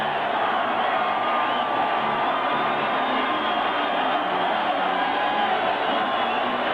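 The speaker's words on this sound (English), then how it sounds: "Hear the crowd screaming, save our Raiders." Football stadium crowd at a 1980 Monday night Raiders game against the Broncos, a dense, steady roar of screaming fans filling the air with no break.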